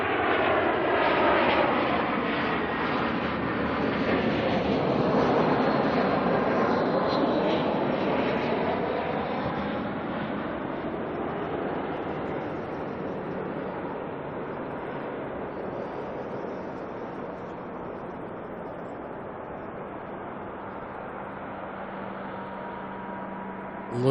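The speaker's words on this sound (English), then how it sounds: "And we've got a Jetstar coming in from Wellington." A Jetstar airliner landing at Auckland Airport sends a loud, broad jet engine roar that swells over the first seconds. It then slowly fades into a lower, distant rumble with some wind noise, and no voices are heard.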